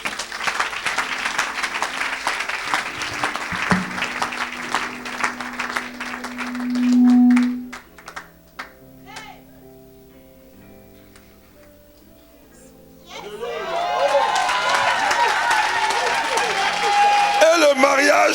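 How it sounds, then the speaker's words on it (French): A worship crowd cheers and applauds in a loud, dense burst, then a sustained tone and a quieter stretch follow before the clapping and cheering surge back strongly, with voices mixed throughout. "Quelqu'un acclame le Seigneur."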